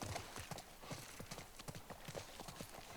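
Horse hooves clip-clop in an irregular walking rhythm in The Last of Us Part 1, quiet and fairly close, with faint speech in the background.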